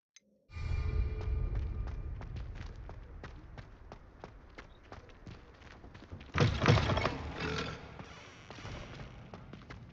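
Expelliarmus spell cast in the video game Hogwarts Legacy, heard as a sharp burst of crackling magical energy partway through, over a bed of game ambience, mechanical clicks and footstep-like thumps.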